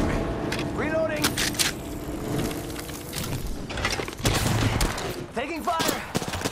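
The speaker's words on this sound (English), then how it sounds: "Taking fire!" Gunfire in Apex Legends: dense crackling bursts and rapid shots over a busy, noisy battle bed, with a voice talking throughout.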